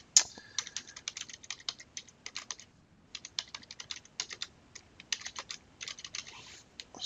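Keys click quietly on a computer keyboard in uneven runs of quick taps with brief pauses between bursts. The typing sounds close but soft, and no voice is heard.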